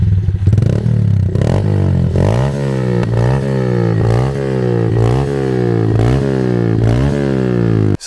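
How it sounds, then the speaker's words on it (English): A small-capacity motorcycle fitted with an aftermarket exhaust revs and accelerates close by, a loud throaty drone rising through the gears with steady pulsing pitch sweeps and brief shifts between them. "A 10 shit exhaust. What makes this bike sound like a proper massive CC bike."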